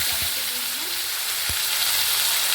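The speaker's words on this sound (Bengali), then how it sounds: "গোটা গরম মশলা, তেজপাতা ফোড়নে দিয়ে দিলাম" Whole garam masala and bay leaves sizzle in hot oil as a constant close frying hiss, broken by a couple of low thumps of stirring or utensil contact, with no talking.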